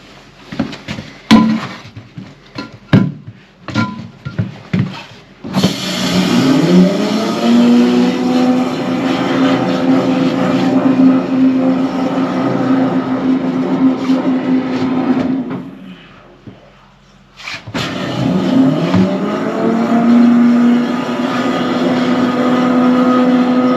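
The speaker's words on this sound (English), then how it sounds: "the jetter's running outside" A high-pressure drain jetter runs outside in a long, steady mechanical roar after a few sharp knocks, cuts out briefly, then starts again at full, even volume.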